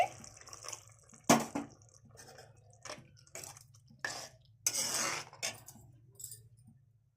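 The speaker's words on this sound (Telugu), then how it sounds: "ఇప్పుడు ఇందులో వాటర్ పోస్తున్నానండి." Water is poured into mushroom curry cooking in a pan, heard as a few close, short splashing and sloshing bursts separated by quiet gaps, with no talking.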